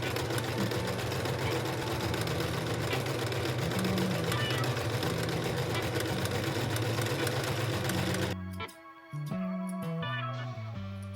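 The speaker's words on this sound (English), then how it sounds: "So now I'm just going to sew the buttonholes." A sewing machine stitches buttonholes on a chore coat, running as a steady, loud mechanical whir that stops and restarts in short bursts near the end.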